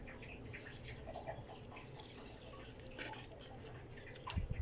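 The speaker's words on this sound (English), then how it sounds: "And I'm just watering so this soil" Water pours and drips into the soil of a potted Montezuma cypress bonsai, a quiet continuous trickle with faint splashes and drips, heard alone and picking up slightly at the end.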